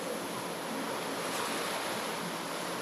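Ocean waves break at Mirissa Beach on Sri Lanka's south coast, a constant, moderately loud surf roar without distinct pauses and with no speech.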